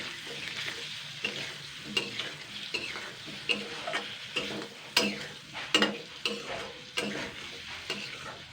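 A spoon stirs tomato pickle in a pan over faint sizzling, with sharp scrapes and clicks against the pan recurring roughly once a second, close up and without speech.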